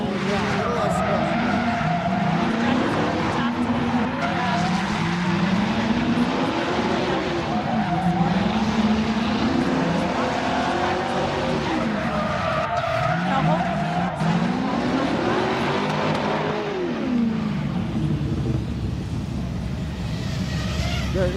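A race car at a grassroots qualifying session skids and squeals its tires under throttle, engine pitch sweeping up and down in repeated arcs across a long run, with a commentator talking over it throughout.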